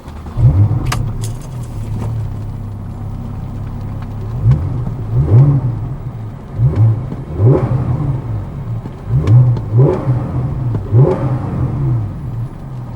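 A deep 3.8-liter flat-six sports exhaust on a 2015 Porsche 991 Carrera S revs repeatedly, rising and falling in short bursts with a throaty rumble close by.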